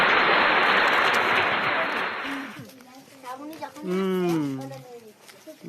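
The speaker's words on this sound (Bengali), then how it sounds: "ওই জন্য একটা হাততালি মেরে দাও" Children at a quiz contest clap their hands in a dense, loud burst of applause lasting a couple of seconds. The clapping stops abruptly, and a person starts talking afterward.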